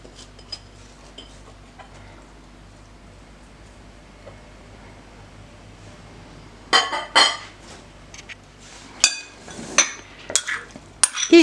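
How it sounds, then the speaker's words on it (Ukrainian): A quiet stretch, then a burst of clattering and scraping as sliced apples are tipped and slid into a bowl, with several sharp knocks near the end. "я беру посудину, переміщаю наші яблучка нарізані"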